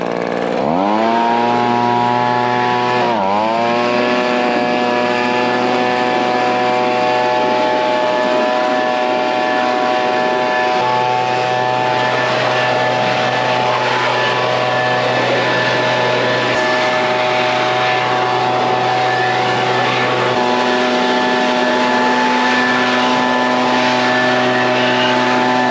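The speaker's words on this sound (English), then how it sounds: "Make sure your leaf blower runs." A leaf blower drying a Harley-Davidson motorcycle runs loud and close, a steady engine drone with a strong whine that holds for the whole stretch after a brief revving catch near the start.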